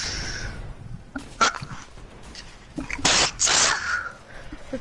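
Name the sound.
sneezing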